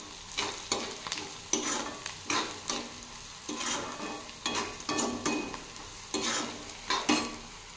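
Onions sautéing in a pan for a wild amaranth (math) greens recipe, with a spoon stirring in regular scraping strokes about once a second over a steady sizzle, close and clear.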